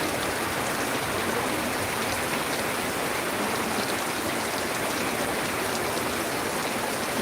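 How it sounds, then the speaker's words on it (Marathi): Rain falls steadily in a field during eggplant picking, a constant dense hiss of drops on leaves and ground, even and unbroken throughout with no voices. "एक नंबर जबरदस्त टायमिंगवर पाऊस सुरुवात झाला बघू शकता"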